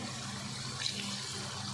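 Water from a glass is poured steadily into a pot of chicken aloo curry with whole green chillies, a soft continuous splashing close by and not very loud.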